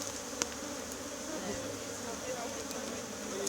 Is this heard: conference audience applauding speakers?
no